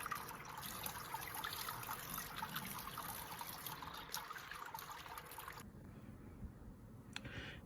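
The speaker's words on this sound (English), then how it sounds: "I'm just sparging now with 3 kettles full of water." Water poured and trickling over the mash during sparging for a grapefruit IPA home brew, a steady splashing flow close by that cuts off abruptly, leaving a quieter drip and gurgle.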